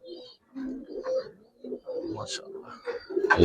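Giribaz pigeons coo in a series of low, throaty calls close by, joined by a few higher chirps, while a person talks between the calls.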